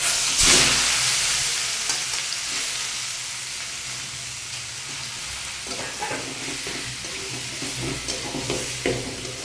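Steamed mixed leafy greens hit hot oil with a loud burst of sizzle, then settle into a steady, close frying hiss with occasional stirring scrapes.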